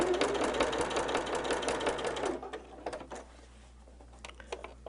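A sewing machine stitching a holiday quilt runs in a fast, even mechanical chatter for about two seconds, then stops, leaving faint clicks and handling noises.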